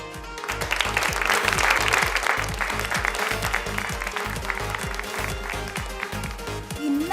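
Sustained audience clapping fills a stage event at a mega textile fair, loud and continuous, with a regular low thumping beat running underneath.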